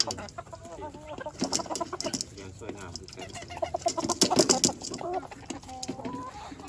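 Jungle fowl chickens cluck in a busy, close run of short calls, with rooster-like notes and a voice or two now and then among them.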